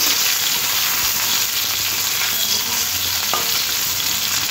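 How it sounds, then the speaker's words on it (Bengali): Cut potato fried in hot oil with tempered spices while being stirred in a pan sizzles loudly and continuously, with soft scraping of the stirring under the steady crackle. "আলুটা একটু নাড়াচাড়া করে ভেজে নিতে হবে।"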